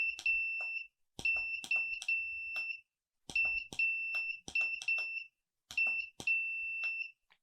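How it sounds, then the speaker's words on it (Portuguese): Short and long electronic beeps in clustered groups with pauses between them, clean and tonal like Morse code being keyed. "quem ouve esses bips consegue traduzir a palavra em Morse para o nosso alfabeto"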